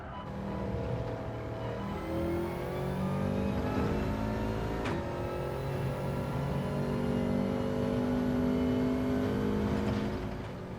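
Race car engine in Gran Turismo 7 holding a steady high-revving drone on track, its pitch rising through long pulls with quick shift changes, loud and continuous throughout.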